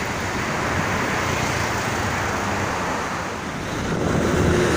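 Strong wind roars steadily beside heavy traffic on the Jakarta–Cikampek toll road in the afternoon, a dense continuous rush of gusts and road noise that swells slightly near the end, with no voices.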